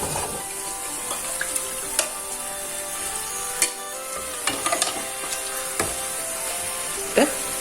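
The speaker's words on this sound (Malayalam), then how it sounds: "ഇതൊന്ന് വഴറ്റിയെടുക്കാം." Beef masala for Kerala-style beef chaps sautéing in a pan, a steady low sizzle with scattered scraping and stirring clicks from a spatula, close and moderately loud, with no talking.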